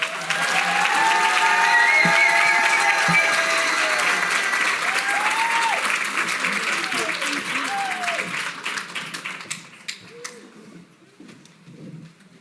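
Sustained applause from an audience at a City Club of Chicago luncheon welcoming the Chicago City Clerk, loud and dense at first, then tapering to scattered claps while voices murmur underneath.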